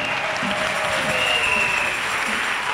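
A church congregation applauding and cheering during a worship service, a full, sustained wash of clapping with faint vocal tones underneath, steady and loud from start to finish.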